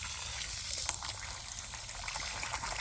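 Water pours from a kitchen tap over tomatoes being rinsed, a soft, steady splashing trickle heard up close and fairly quiet, with no talk.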